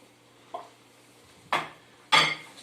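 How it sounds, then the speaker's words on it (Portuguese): Cassava flour tipped into a pan on an industrial gas stove for tropeiro-style cooking: a few soft scrapes and clatters of utensil against pan, with two louder pours and stirs near the end, no talking. "Vou adicionar farinha de mandioca"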